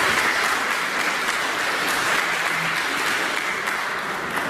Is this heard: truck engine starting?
no